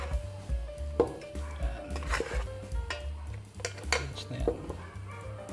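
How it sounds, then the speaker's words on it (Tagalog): Egg being stirred into chicken intestines and flour in a bowl, with a steady run of wet clinks and scrapes of a utensil against the dish, close and moderately loud, no talk. "Ihalo lang natin yung itlog."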